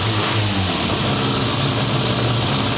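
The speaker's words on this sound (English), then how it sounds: "It started like brand new. The revs were pretty high" A restored Renault 5 Campus engine running at high revs with an intake air leak, a dense, steady, loud mechanical drone close to the microphone.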